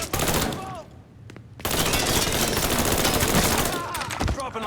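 Rapid bursts of gunfire from Mafia III: Definitive Edition, loud and sustained across most of the stretch after a brief lull, with shouted voices overlapping the shots.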